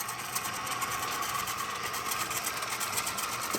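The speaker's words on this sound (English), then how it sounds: "We have a motor that's running." A universal motor running on DC gives a steady, dense whine with a fast regular buzz that stays even throughout.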